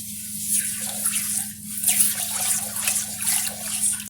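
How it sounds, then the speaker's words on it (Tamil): One cup of water is poured into a pan of sugar for Bombay Karachi halwa syrup, a steady, close trickling splash lasting a few seconds with a low hum underneath. "இந்த மிச்சம் இருக்கிற 1 கப்பு தண்ணியை வந்துட்டு அளந்து ஊற்றிட்டு"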